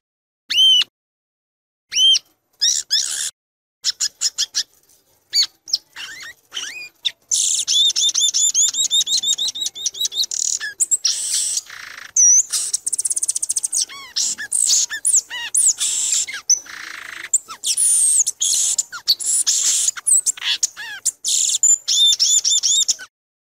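A male Brazilian songbird that mimics other species pours out varied, high, rapid phrases, starting with scattered short calls and building into dense, nearly continuous warbling and chattering, close and clear with no voices.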